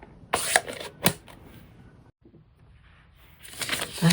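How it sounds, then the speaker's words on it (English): A manual die cut machine with paper fed through it: a few sharp clicks and a scraping crank pass up close, then a quiet lull before a rising grinding roll near the end. "Then I can go ahead and run this through my die cut machine."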